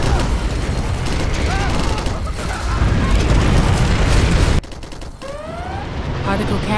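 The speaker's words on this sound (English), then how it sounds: "Particle cannon activated." Particle cannon firing in Command and Conquer Generals Zero Hour, a dense roaring barrage of booms and crackling blasts that cuts off abruptly, followed by a quieter stretch with rising electronic zaps and rumble.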